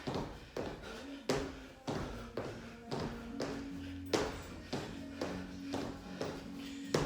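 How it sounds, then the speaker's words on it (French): Two-footed jumps during a muscle-strengthening workout land as a steady series of about ten thuds, roughly two thirds of a second apart, each a dull impact on the floor with soft shuffling between, close and moderately loud. "Le saut pied joint et pied à plat."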